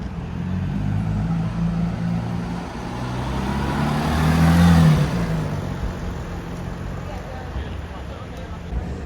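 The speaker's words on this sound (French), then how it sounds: "au moment où on arrive, la GT3 RS s'en va" A Porsche GT3 RS pulling away on a London street beside Harrods, its engine revving up to a peak and fading into traffic noise while people talk nearby.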